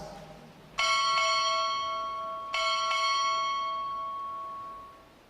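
Four ship's bells struck in two pairs at a U.S. Navy ROTC graduation ceremony, clear ringing strikes with long resonant decay, fairly close and loud.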